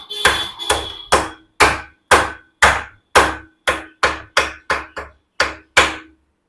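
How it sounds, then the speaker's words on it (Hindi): Hammer driving a handlebar steering bearing tight on a Honda SP 125 motorcycle, giving about fourteen sharp, loud, close metallic strikes at a steady pace that quickens near the end, each decaying into brief ringing, with no talking. "हैमर लेकर के टाइट दबाव डालना, ताकि उसको बोल्डेसर को अच्छा से टाइट करके सेटिंग करना"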